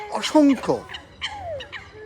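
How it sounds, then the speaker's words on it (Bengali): Honking, gobbling calls of ducks and other waterfowl at a park in England, a few quick close calls in a short burst. "অসংখ্য এখানে হাঁস আছে"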